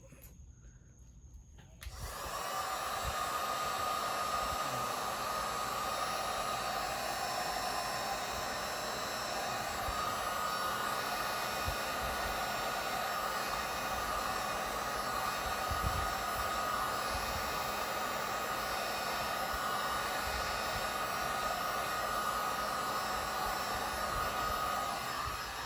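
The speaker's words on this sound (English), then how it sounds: "I don't like getting resin on my heat gun" A heat gun blows hot air over resin on a two-tier cake tray, a steady close whooshing roar that starts after a brief quieter moment and runs on unbroken.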